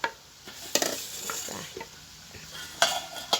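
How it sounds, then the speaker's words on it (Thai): Crisp fried banana slices being stirred into sugar syrup in a pan, scattered scraping and clinking strokes with a faint sizzle, close and moderately quiet. "คนให้กล้วยกับน้ำเชื่อมเข้ากัน"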